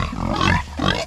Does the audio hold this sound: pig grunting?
yes